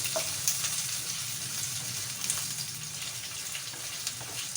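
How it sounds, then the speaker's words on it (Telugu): Potatoes and curry leaves fry in a hot pan for a sago khichdi, giving a steady, dense sizzle with faint crackles and a low background rumble throughout. "కరివేపాకు వేసేసాం బంగాళదుంపలు వేగిన తర్వాత బాగా వేయించేసి ఇలాగా"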